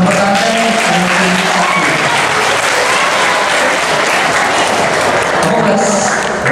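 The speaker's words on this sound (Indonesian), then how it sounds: "Kita kasih tepuk tangan dong." An audience at a Christmas Mass and start-of-semester school celebration breaks into loud, dense, sustained applause filling the room, with a few voices faintly mixed into the clapping.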